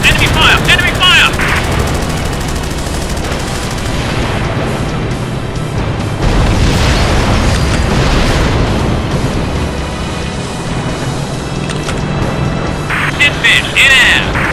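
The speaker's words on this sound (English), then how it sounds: "Enemy fire!" Gunfire and explosions in the aerial combat game Flying Tigers: Shadows Over China: dense bursts of machine-gun fire and booms, loud and continuous, with shouted voices in between.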